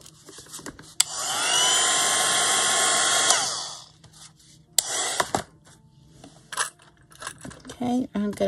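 A hand-held dryer blows on freshly painted Rolodex collage cards, a loud steady whirr lasting a few seconds before it cuts off. Sharp clicks, knocks and light rubbing on the craft table follow.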